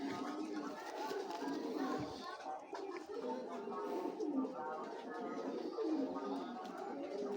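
Racing pigeons coo steadily in a busy loft, their murmuring overlapping in soft, continuous waves while voices talk nearby throughout.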